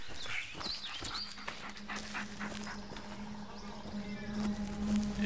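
A dog pants and whimpers outdoors, with quick breathy panting, a couple of high whines early on, and a low steady hum underneath throughout.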